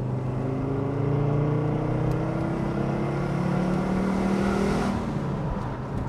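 An Audi Cabriolet 2.3E five-cylinder revs up hard on a test drive, its loud, close engine note climbing steadily in pitch for several seconds before dropping off, with no talk.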